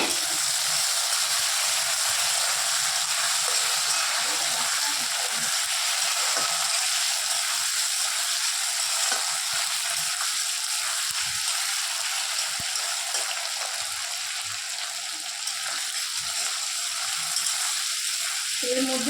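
Potatoes with light spices fry in hot oil, a constant close hiss and crackle that holds at an even level throughout, with faint scrapes now and then.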